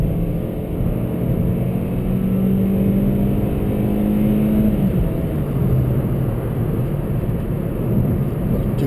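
A 2021 Kia Forte EX in sport mode pulls away from a dead stop, its engine droning up through the revs in a steady rising tone before easing and settling into a lower cruising hum, heard from inside the cabin.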